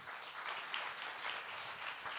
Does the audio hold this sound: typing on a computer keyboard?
no